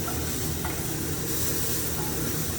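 Finely diced shallot sautés in a pan, giving a dense, even sizzle that stays close and constant while it is stirred around, with no voices over it.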